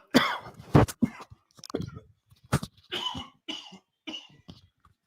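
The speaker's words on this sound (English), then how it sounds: "I know when I cough, it coughs right into the ear hole." A man coughs repeatedly and clears his throat right into a close microphone during a live football watch party, several sharp loud bursts separated by short silences.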